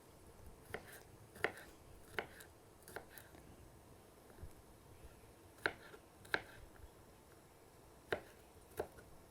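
A knife mincing a vegetable on a board makes quiet, irregular tapping chops, faint and spaced out over a low background hush.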